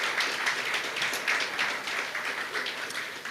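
A parliamentary forum audience applauds the Deputy President, producing steady, moderately loud clapping from many hands in a hall, without talk.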